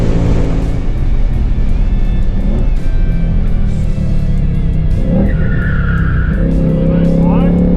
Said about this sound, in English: Nice slide on the brakes going into the turn.